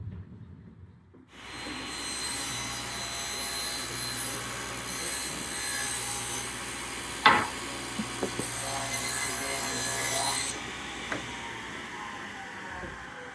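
A table saw blade cuts a quarter-inch dado into wood for a jewelry box, the motor spinning up into a sustained loud whine for about nine seconds, with a sharp knock partway through before winding down.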